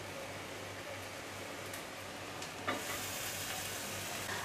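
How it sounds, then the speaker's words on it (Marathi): Chopped green chili, ginger, garlic and tomato sauté in a pan with a dense, steady sizzle and faint stirring scrapes. The frying is close and continuous, with no talking. "आता चांगलं ना परतून घ्यायचं आहे आपल्याला आणि सर्व साहित्य ना चांगलं भाजलं पाहिजे."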